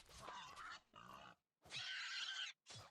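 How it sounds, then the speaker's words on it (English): A pig in the Myth of Empires game grunts in several short, close bursts separated by brief pauses, with no talk. "Die, pig."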